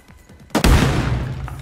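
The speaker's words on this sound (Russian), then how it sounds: "Я только подхожу, чувак появляется и взрыв. Это я кинул гранату." In ArmA Reforger, a hand grenade blows up after a second of quiet, faint earlier noise: one sudden loud blast followed by a long rumbling decay.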